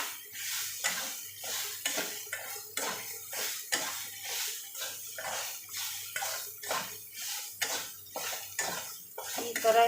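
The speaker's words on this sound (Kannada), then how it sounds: "ಇವಾಗ ಹುರ್ಕೋತೀನಿ." A metal spoon stirs and scrapes rhythmically through coriander, roasted gram and tomato being dry-roasted in a pan, close and clattering at a steady beat with a faint sizzle beneath.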